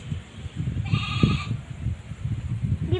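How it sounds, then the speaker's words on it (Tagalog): A goat that cannot climb gives a single clear bleat, close and fairly loud, over a background of low rumbling and outdoor noise. "Ba't umiyaw yung kambing? Di makaakyat."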